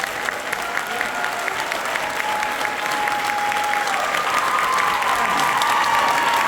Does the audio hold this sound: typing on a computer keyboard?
no